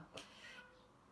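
A domestic cat meows once, a short, faint cry near the start that fades into quiet room tone.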